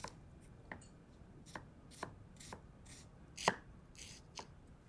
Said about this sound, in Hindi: प्याज को हम चॉप कर लेंगे.